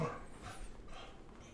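A dog barks and whimpers faintly and close by for a moment, the sounds soft and brief against a quiet room.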